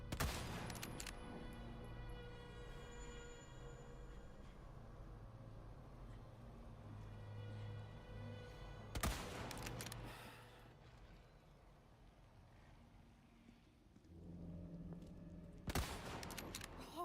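Bursts of rifle gunfire in Resident Evil 4 Remake, a dense volley at the start and sharp loud bursts near the middle and end, over a steady low game ambience with no talk.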